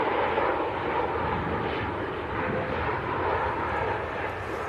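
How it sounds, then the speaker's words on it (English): Ryanair passenger jet landing at Manchester Airport, a steady broadband engine roar heard from a distance, constant throughout with no talk. "There he goes, the landing Ryanair."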